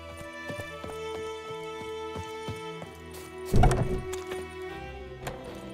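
Hooves clop steadily as a horse gallops in the video game The Witcher 3, rhythmic thuds under sustained musical tones, with one heavier thump midway.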